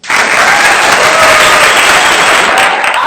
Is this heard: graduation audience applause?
yes